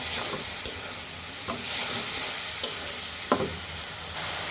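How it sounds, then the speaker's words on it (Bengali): Mutton with spices being stir-fried dry for haleem, a steady close sizzle with a few sharp scraping strokes of a spoon against the pan. "এখন ভালোভাবে কষিয়ে দিতে হবে"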